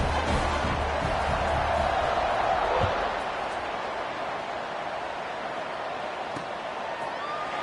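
A stadium crowd roars at kickoff in College Football 26 during a Colorado State vs. Wyoming game. It is a steady, dense wash of cheering, louder for the first few seconds and then settling slightly lower, with one dull thud.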